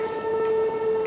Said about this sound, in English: Train coming by in this valley is making a really cool sound combined with the windmills